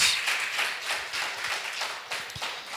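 Church congregation clapping along at a Christmas service, a steady mass of overlapping handclaps with soft rhythmic accents, fairly close and continuous, with no talking over it.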